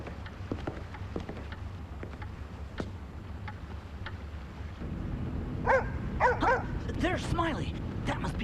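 Smiley, a cartoon dog aboard the Titanic, lets out a burst of excited yips and short barks near the end, after a stretch of faint background rumble and light knocks.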